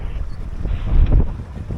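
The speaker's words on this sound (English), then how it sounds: "Ooh, a bit of a gust." A gust of wind sweeps over a lug-rigged sailboat as it broad reaches, a close, blustery rumble that swells to a peak midway and then eases back to a steady breeze.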